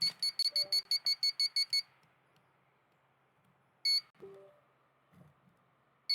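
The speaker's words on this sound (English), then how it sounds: "Okay, slow beep." Electronics of a brushless flywheel nerf shooter beep in a rapid run of about a dozen short high tones, then after a pause give single slow beeps, set against faint background hum.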